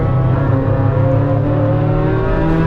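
A race car engine at Mid-Ohio accelerates under load, a loud close continuous growl with a rising harmonic drone that holds steady throughout, no voices.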